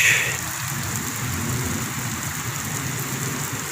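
Heavy rain pours down on a village in a dense, constant hiss and patter on surfaces, loud and unbroken throughout, with a faint engine hum underneath.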